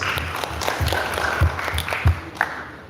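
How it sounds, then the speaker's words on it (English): Applause from a conference audience, a steady broad wash of clapping with a few louder thumps, moderately loud with no talking over it. "Please, a round of applause for Wikipedia"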